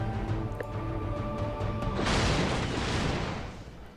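Weapons firing on a stack of ships in the space strategy game Dominus Galaxia, a heavy booming volley of blasts erupting midway over a tonal game soundtrack and fading out.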